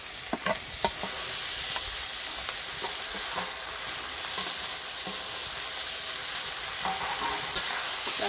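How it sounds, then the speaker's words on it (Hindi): Onions frying with ginger and garlic paste for a village-style country chicken curry, a steady close sizzle with scraping stirs and a few sharp clinks of the spoon against the pan, no voices. "एबे हमें पकेबा अदा मसला आ रसुण मसला"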